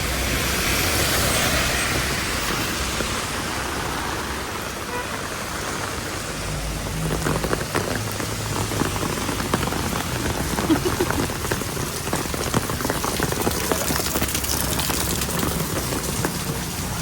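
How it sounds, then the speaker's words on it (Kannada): Heavy rain pours steadily in Shivamogga, a dense continuous hiss of drops pounding surfaces close by, loud and unbroken for the whole stretch with no voices over it. "ಮಳೆ ಅಂದ್ರೆ ಮಳೆ ಬರ್ತಿದೆ ನೋಡಿ, ಎಷ್ಟು ಜೋರಿದೆ ಮಳೆ"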